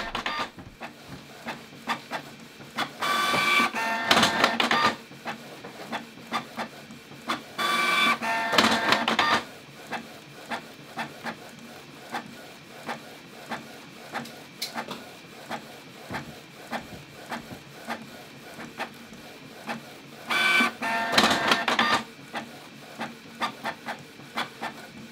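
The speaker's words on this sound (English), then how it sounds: "right now, we're going to be printing off a document" A Canon G3260 inkjet printer runs one-sided printing with repeated bursts of whirring and rasping as the print head sweeps back and forth. Quieter clicks and ticks fill the pauses between passes.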